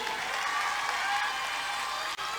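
Applause from the audience at a school annual function and cultural programme, a dense, steady wash of clapping from many hands that carries on evenly and then cuts off briefly near the end.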